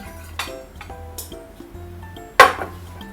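A few light metallic clinks and knocks, then a louder clank as a pan is set down on a stove.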